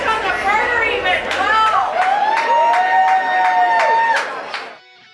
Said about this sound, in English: it wasn't just friends and family that were cheering for me, it was the entire crowd